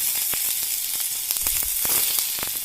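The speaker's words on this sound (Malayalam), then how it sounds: "അതിലേക്ക് ഞാൻ സവോള, സാമാന്യം വലിയ സവോള തന്നെയാണ് അരിഞ്ഞിട്ടുണ്ട്" Large chopped onions drop into hot oil for a tomato theeyal, setting off a bright, continuous sizzle with scattered crackles and pops, close and alone without any voices.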